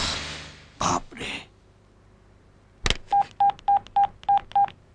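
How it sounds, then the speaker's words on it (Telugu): A telephone keypad is dialed in a film scene: a sharp click is followed by six quick, evenly spaced beeps, after a couple of brief throat-like noises at the start. "వరల్డ్ బ్యాంక్ ఫోన్ చేస్తున్నావా?"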